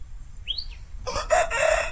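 An Aseel rooster, a heavy young bird of about four kilograms with tail feathers still growing in, crows a loud, near cock-a-doodle-doo call of about a second after a short higher chirp.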